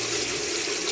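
A sink tap runs steadily with filtered city water, a continuous close hiss and splash without pause, heard alone.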